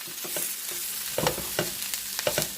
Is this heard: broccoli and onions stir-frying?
yes